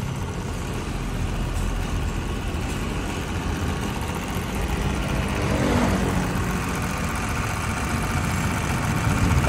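A Sanden 511 automotive AC compressor runs unloaded on a test setup, giving a steady, smooth, even hum that holds at a constant level for the whole stretch with no talking.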